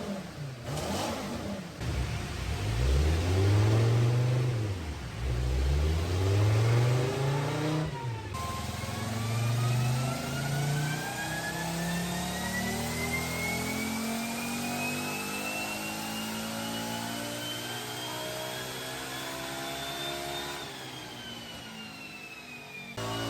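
An Audi Quattro Group B rally car engine revs hard several times in quick bursts near by, then climbs in one long, steady rising pull before easing off, with no talk.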